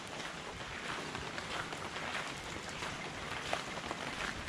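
Steady rain falls across the Northern Layan Hills on a hike, a dense, even hiss of drops with gusts of wind, continuous and fairly close throughout.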